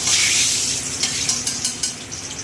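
A large bay leaf sizzles in hot oil in a pan, a close, bright frying hiss with a few sharp pops and stirring scrapes, no talking.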